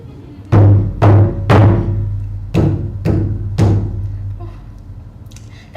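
Six resonant drum strikes, loud and close, each with a booming low ring that decays between hits, in an uneven pattern with a longer gap midway.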